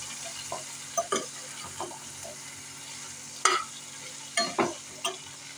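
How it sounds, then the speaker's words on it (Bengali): Stirring and frying taro stolon curry in a pan over high flame, with a steady low sizzle broken by several sharp spoon scrapes and clatters against the pan, close and fairly loud, with no voices. "ফ্লেমটা একটু হাই করে দেবে এটাকে ভাজা ভাজা করার জন্য"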